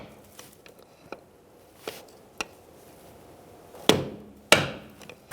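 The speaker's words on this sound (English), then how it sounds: "Make sure you peen over your axle nut when you are done torquing." Two sharp metallic hammer strikes peen over the axle nut on a 2014-2018 Subaru Forester rear CV axle, landing close together near the end, after a few lighter taps and clicks in a quiet garage.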